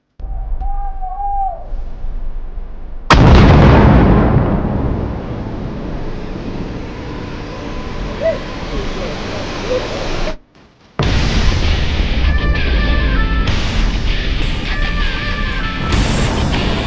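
A grenade round from a Swedish grenade system exploding near an armored vehicle in Ukraine, a sudden loud close blast that gives way to a long roaring rumble, then a brief cut and further heavy rumbling.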